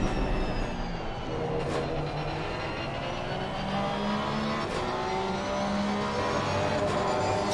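GT3 race cars in the sim racing game Assetto Corsa Competizione, including a Porsche chasing a Honda, roar steadily at high revs with shifting engine tones and faint tire squeal, loud and continuous with no voices.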